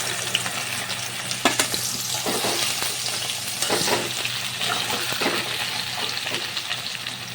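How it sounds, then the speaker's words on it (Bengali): Taro stolons (kochur loti) frying in mustard oil, with a steady broadband sizzle and crackle and scattered sharp pops and stirring scrapes, fairly close and continuous throughout. "এখন ওই তেলের ভিতর আমি আরও কিছুটা সর্ষের তেল দিয়েছি আর কচুরলতিগুলোকে আমি ভাজা করে নেব"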